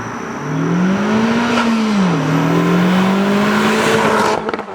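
A loud 5.0 car engine roars at a steady high pitch as it speeds past, its tone sliding and rising, then cutting off abruptly at the end.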